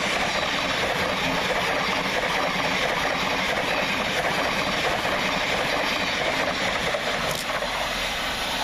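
A Class 700 electric train pulls into Anerley railway station with a steady broadband rumble and faint rail clatter throughout, close and fairly loud.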